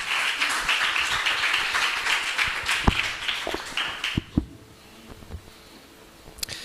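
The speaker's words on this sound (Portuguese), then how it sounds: "Dá uma salva de palmas, Senhor." A church congregation breaks into applause, a dense, even wash of many clapping hands that carries for several seconds, then fades to a few scattered claps and quiet near the end.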